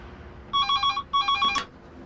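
A telephone rings inside a phone box, two clear electronic ring bursts close by, the second cut off sharply as the call is answered, with nobody talking.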